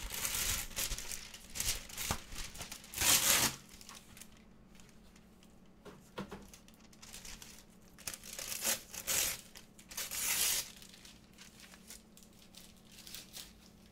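Wax paper crinkles and rustles in quiet, intermittent bursts of crackling, with softer handling noises between them and no talk.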